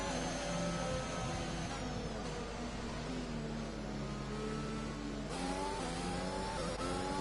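Engines of race cars on a formation lap at a Singapore Grand Prix in a racing video game drone and rev steadily, pitch climbing through gear changes, close and continuous without voices.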